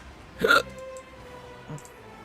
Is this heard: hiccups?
yes